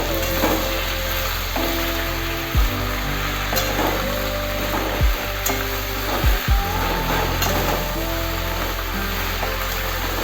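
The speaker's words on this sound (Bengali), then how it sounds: "লাউটা দিয়ে আমি একটু নাড়বো" Bottle gourd (lau) is stirred in a pan over a steady hissing sizzle, with a few dull knocks of the spoon against the pan at irregular intervals.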